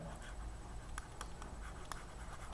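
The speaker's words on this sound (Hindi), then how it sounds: "तो लिखते हैं हाइट ऑफ सिलेंडर" Pen scratching on paper during a maths lesson on cylinder surface area and volume, close and faint, with short strokes in an irregular rhythm.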